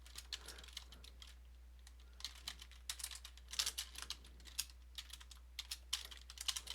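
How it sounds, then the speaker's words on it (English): Close, fast typing on a computer keyboard while entering a long expression into an online calculator, irregular bursts of key clicks with brief pauses and no talking. "I just type this in an online calculator."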